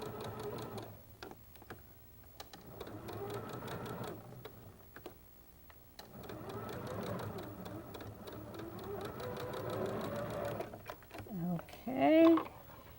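A home sewing machine stitches quilt fabric for pinwheel hearts in bursts of steady mechanical whirring, pausing as the work is turned, with a person talking over and between the runs and a brief higher squeak near the end.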